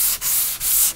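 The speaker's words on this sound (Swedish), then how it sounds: "Och så slipar man i fiberriktningen." Painted wood rubbed with 180-grit sandpaper on a sanding block along the grain, a loud, close, hissing scrape in three long strokes with brief pauses between them.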